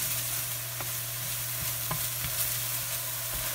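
Scrambled egg pieces and noodles being stirred in a hot pan for pad thai, giving a steady sizzle with a few sharp scraping clicks from the utensil, close and continuous with no talking.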